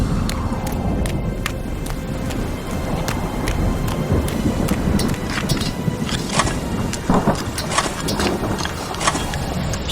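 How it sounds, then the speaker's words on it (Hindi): Heavy rain pours down steadily in a dense hiss while thunder rumbles and cracks overhead, with sharp bursts of drops and low booming rolls spread across the storm. "बारिश शुरू हो गई।"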